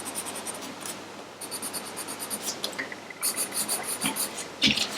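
Colored pencil, a tan shade, rubbing and shading across a colouring book page in steady, close scratchy strokes with brief pauses and a few sharper taps.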